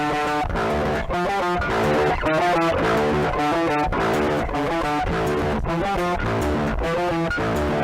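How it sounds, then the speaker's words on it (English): Bass guitar run through a Joyo distortion pedal, playing a driven, rhythmic riff with steady picked notes and a thick, saturated tone throughout, loud and alone without talk. "I want to kick in this distortion already."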